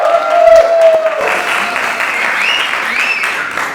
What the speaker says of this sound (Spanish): Recibamos con un fuerte aplauso a Daniel el Chivo Benavides.